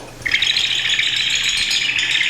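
A bird-call instrument imitating a canary's song gives a bright, continuous warbling trill, loud and close, sounding alone with no talk.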